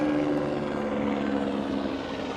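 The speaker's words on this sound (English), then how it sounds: "helicopter going overhead" A helicopter passes overhead with a steady, loud droning rotor and engine hum that holds constant throughout, slightly fading near the end, with no talking.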